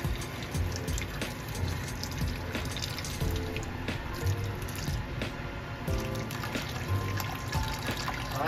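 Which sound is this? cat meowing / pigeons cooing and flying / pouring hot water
pouring hot water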